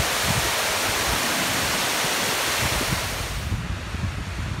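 Water rushes over the Espada Dam into the irrigation acequia, a loud, dense roar like surf that holds steady and then eases slightly toward the end, with no voices.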